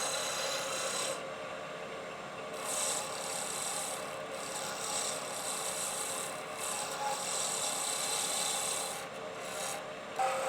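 A wood pen blank spins on a lathe while a tool shaves it, giving a steady, continuous scraping rasp of even loudness throughout, with no talking.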